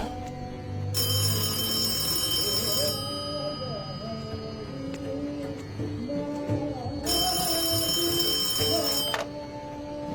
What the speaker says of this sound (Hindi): अब इस फोन की घंटी तभी बजती है जब तुम्हारा फोन आता